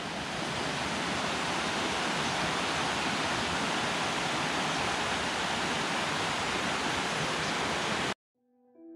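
Loud, steady rush of a stream at a trail water crossing close by, broadband and continuous, cutting off abruptly near the end.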